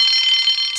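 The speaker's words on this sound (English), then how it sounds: "Soon came the alarm." A loud, steady electronic alarm tone sounds in a Thomas the Tank Engine train animation, a continuous high ringing held unbroken for under a second.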